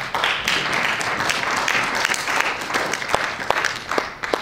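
A church congregation applauds in praise, steady dense clapping throughout with a few sharper individual claps standing out near the end.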